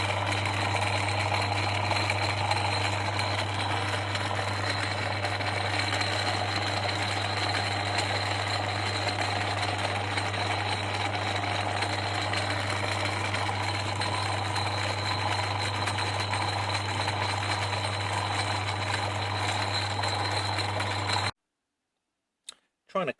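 A Portass Model S mini lathe turns at its slowest speed with rattly old gears, a steady mechanical drone and hum running continuously at close range before cutting out abruptly near the end.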